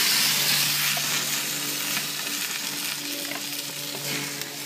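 Steaks sizzle on a plank over a grill, a close, steady hiss and crackle of frying fat that eases slightly as it goes on, with no talking.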